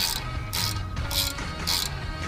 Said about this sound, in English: Then you're going to take your regular ratchet and your number 5. And you go ahead and tighten this thing down until it bottoms out.